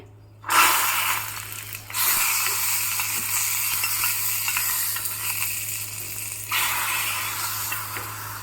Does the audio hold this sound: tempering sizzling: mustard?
yes